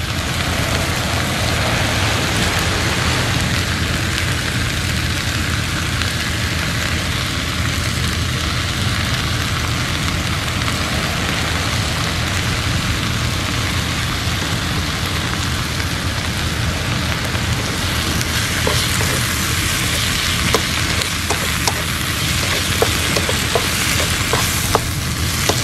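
Garlic, ginger and dried red chilies sizzle and fry steadily in a hot pan outdoors, with a dense continuous crackle and occasional stirring scrapes near the end.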